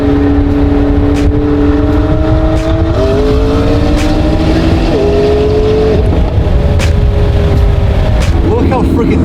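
A car on a long mountain back road, its engine a steady hum with gear-shift steps in pitch, loud and close throughout, with faint voices beneath the drive.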